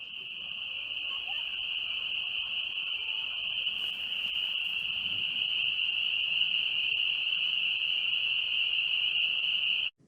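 A dense, continuous chorus of high-pitched spring peeper frogs rings out steadily from a wetland, loud and unbroken for the whole stretch.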